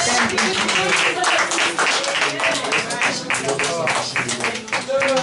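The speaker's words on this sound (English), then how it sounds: "Let's clap for Jesus." A church congregation claps during a testimony service, dense rhythmic hand clapping filling the room for several seconds, with voices mixed in underneath.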